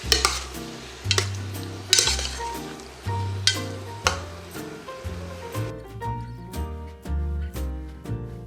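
Pork for Filipino menudo stirred in a pot, with a regular series of close scraping stir strokes about once a second and light clinks over a faint sizzle, set against steady low musical tones.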